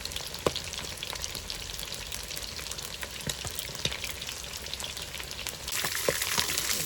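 Steady, crackling sizzle of quail frying submerged in hot oil in a kazan over an outdoor campfire, with scattered sharp pops throughout and a brief louder surge near the end.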